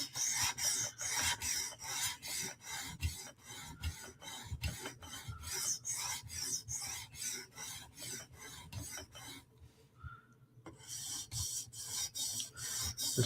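A Hinderer knife is sharpened on a TSProf Kadet sharpener with a 400 grit CBN stone, making a rhythmic, close rasping scrape of quick even strokes. The strokes stop for a moment near the end and then start again, with no talking.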